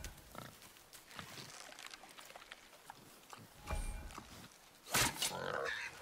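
Wild boar grunts and squeals in the God of War video game, a few scattered snorts building to a louder squeal near the end, heard amid quiet outdoor ambience.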